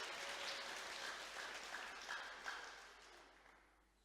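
Congregation clapping and applauding at a church service, a broad wash of hands that is loud at first and gradually fades out.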